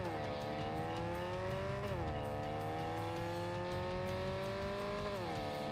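A video game car engine drones steadily, pitch climbing and dropping sharply at gear shifts, with a continuous roar and no talking.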